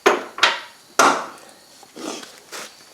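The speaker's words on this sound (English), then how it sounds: "I'm going to have to hit it with a hammer here." A hammer strikes a front strut part of a 2010 Nissan Altima in three sharp, close metallic knocks, followed by a couple of softer taps, with no talk.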